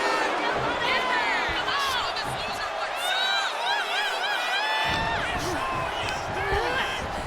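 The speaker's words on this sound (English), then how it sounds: "Tiffany is getting the crowd going." Arena crowd in the WWE 2K25 wrestling video game cheering and roaring steadily, with whistles and shouts rising over a constant din, alongside in-game voices.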